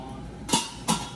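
A pot lid set onto a pan of Italian meatballs simmering in sauce over low to medium heat, giving two quick, close clinks about half a second apart against a quiet kitchen background.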